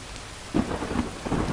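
Steady rain hisses over a low rumble of thunder rolling in the background, a continuous wash of sound with no voices.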